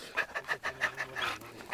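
An excited dog pants rapidly and rhythmically at close range, a steady series of quick breaths with no talking over it.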